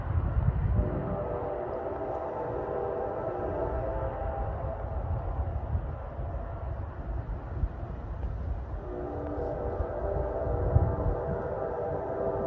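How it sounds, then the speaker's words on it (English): Metro North F40-3C diesel locomotive sounding its horn for a grade crossing at Chestnut Street around a curve on the NJ Transit Main Line, a long sustained blast with a second held note later, over steady engine rumble at middle distance. "Hear him blowing for the crossing at Chestnut Street around the curve."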